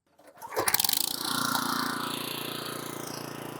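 A walk-behind front tine rototiller engine starts with a rapid sputter, then settles into a steady, loud, close running drone with a constant buzzing pulse.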